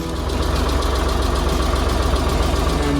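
A generating-set engine runs steadily nearby, a loud, even, rhythmic idle with a fast knocking pulse and no talk over it.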